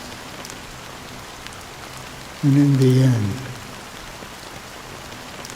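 Rain falls steadily in the video game Honkai: Star Rail, a soft constant patter beneath someone speaking briefly.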